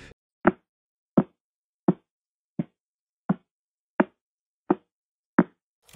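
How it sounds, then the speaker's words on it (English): A regular series of sharp, knock-like pulses from a pulsar's radio signal converted to sound repeats about every 0.7 seconds in otherwise total silence. Each hit is brief and percussive, evenly spaced like a slow heartbeat. "When the signal is turned into sound, it doesn't just beep or tick"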